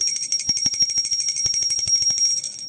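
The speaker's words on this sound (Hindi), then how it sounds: "और अब हम बजा देंगे घंटी" A small brass worship bell rings rapidly and continuously during a Hindu offering ritual, a bright sustained metallic tone with steady repeated strikes, close and fairly loud.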